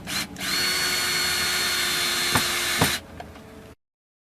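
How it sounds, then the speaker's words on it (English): A power drill drives the last screw into a wooden bed frame for a minivan camper build, one steady close whine lasting about three seconds, with two sharp knocks near its end before it cuts off. "Vince is putting in the last screw"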